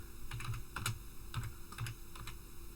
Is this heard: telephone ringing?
no